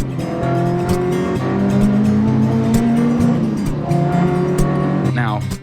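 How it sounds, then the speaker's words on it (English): A Mk1 Ford Escort on carburettors runs with a loud, steady engine drone that climbs slightly in pitch and then eases off, with sharp crackles and pops throughout and no speech. "These carbs making some seriously cool noises."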